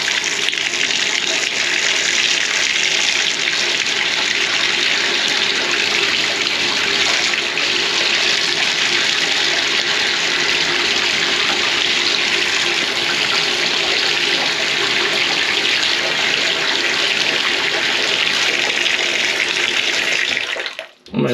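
Hot water gushes steadily from a house shower tap whose cartridge is faulty and blocks the cold supply, a loud, continuous broadband hiss that runs unbroken for about twenty seconds before cutting off abruptly.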